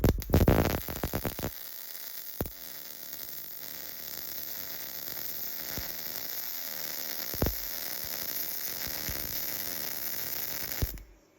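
A YesWelder DP200 welding machine runs a steady crackling, hissing weld on a bracket for about ten seconds, with a few sharp pops and clicks at the start and end.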